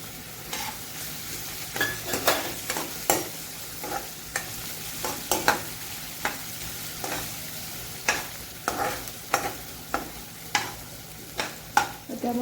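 Finely chopped ginger and garlic frying in hot oil for a dhaba-style dal tadka, a steady soft sizzle broken by frequent sharp scrapes and clinks of a spoon stirring in the pan.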